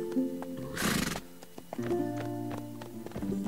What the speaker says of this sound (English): Horses can be wily beasts.